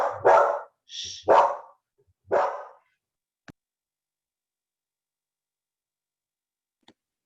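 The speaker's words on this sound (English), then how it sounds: "she is going to bark at every truck that goes by" A pet dog barks three times in quick succession near the microphone indoors, each bark loud and clipped, followed by near silence with a couple of faint clicks.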